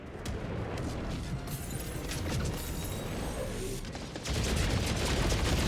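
A strafing run in Helldivers 2 rumbles as a dense, steady wash of distant gunfire and explosions, a continuous roar that swells louder near the end.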